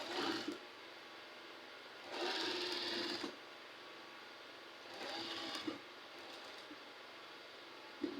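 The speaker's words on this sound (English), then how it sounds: "let's start the sewing" A sewing machine stitches a boubou dress in three short bursts of steady motor whirr. Each burst lasts about a second, with quiet pauses between them, close and moderately loud.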